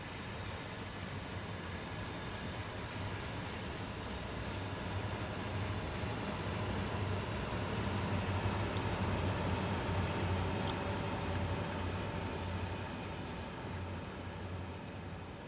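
Clinchfield F7 diesel locomotives straining to haul a 5,000-ton coal train in a train simulator; a steady low engine drone with rumbling wheels holds throughout, unchanging and moderately quiet, with no talk.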